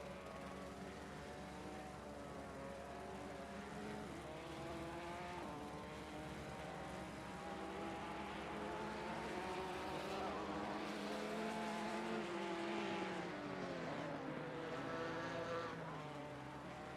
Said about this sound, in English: Enjoy the sounds of the KTM and the Ginetta motors.